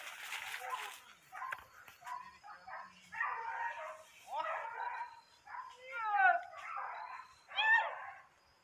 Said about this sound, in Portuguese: cachorrada pegando terceiro tatuzinho aí